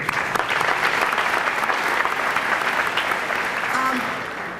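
Sustained audience applause fills a school senior awards ceremony, steady broadband clapping from a large crowd that holds evenly for several seconds before tapering off slightly at the end.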